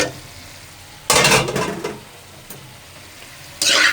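Fried meat dropped into a hot tikka karahi brings loud bursts of sizzling and stirring, the first about a second in and another at the end, with quieter crackling frying in between.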